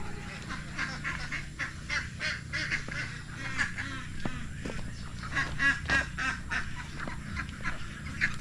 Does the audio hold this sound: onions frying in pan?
no